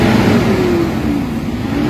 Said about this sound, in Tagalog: pakinggan niyo yung RPM saka yung tawag niyan, yung andar ng engine